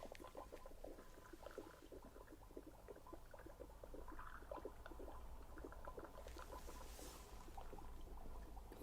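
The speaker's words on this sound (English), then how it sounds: "Water." Soft, continuous bubbling and gurgling of water, low and close, with small irregular pops throughout and no voices.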